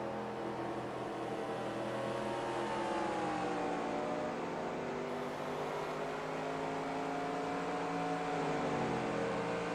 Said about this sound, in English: Go on board and listen to that car